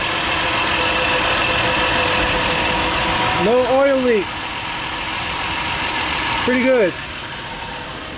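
A Lincoln car engine idles with a low, steady hum; the car is known to have camshaft phaser problems. Someone talks over it in short phrases.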